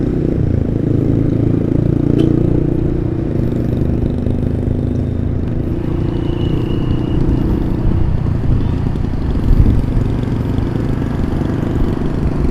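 A chopper motorcycle rides through Makassar traffic, its engine a steady, loud low rumble that continues throughout with road and passing-vehicle noise mixed in.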